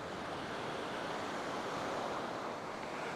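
Sea waves wash onto the sandy beach at Paphos in a steady, broad, continuous rush of surf, faint and blended with wind noise.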